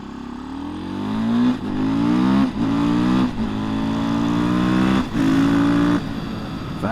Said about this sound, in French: le son du vent de la moto qui accélère